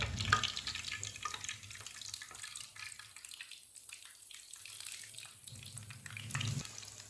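Sandwich pieces dropped one at a time into hot oil fry with a soft, steady sizzle and light bubbling that dips briefly mid-way before swelling again, with no one talking.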